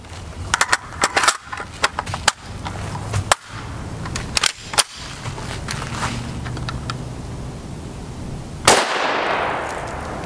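Gunshots from a PS90 rifle firing 5.7x28mm brass ammunition: a run of sharp, loud reports at uneven intervals, closing with one heavier blast that rings out and decays slowly.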